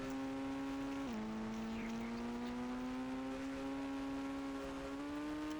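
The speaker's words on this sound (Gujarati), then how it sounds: "ગાડી 108 હાલે છે" A car cruising at about 108 km/h along a seaside road lined with coconut palms, a loud steady engine drone that dips in pitch once near the start, then holds even, with no voices.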